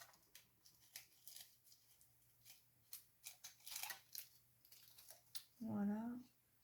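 Scissors cutting scrapbooking paper for an Easter box craft, a series of close, crisp snips in an uneven rhythm, with a short burst of speech near the end.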